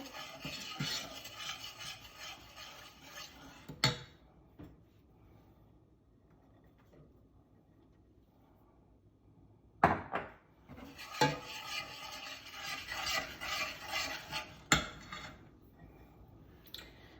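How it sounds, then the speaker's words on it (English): Parlies cake mixture being stirred in a bowl: bursts of scraping, rubbing spoon strokes near and fairly loud, with a quiet pause between two stretches of stirring and a few sharp knocks against the bowl. "Stirring, stirring."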